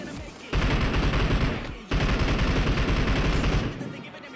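Automatic gunfire in the mobile battle royale game PUBG Mobile, two loud, dense bursts of rapid shots separated by a brief gap, close and continuous, then fading out.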